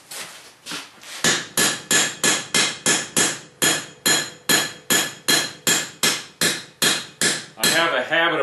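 Blacksmith's hammer strikes hot metal while forging nails: a brisk, even run of about twenty sharp, ringing blows, close and loud, with a brief pause after a few opening taps.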